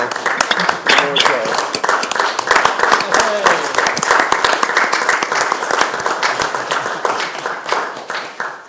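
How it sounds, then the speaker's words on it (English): A room full of people claps in a round of applause at a city council meeting, loud and dense clapping that carries on steadily, with a few voices talking over it. "And we're going to give the first round of applause."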